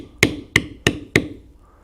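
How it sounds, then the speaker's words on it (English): Stamping tool struck with a mallet to bevel a crosshatch pattern in leather, four sharp, evenly spaced knocks close by. "Now I will come over here and bevel this one down"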